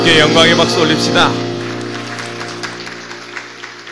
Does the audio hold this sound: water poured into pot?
no